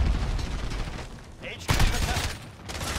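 In an online 10 vs 10 match of the Call of Duty: Modern Warfare beta, gunfire rattles off in rapid bursts. The shots come in fairly loud, dense volleys with a short lull partway through.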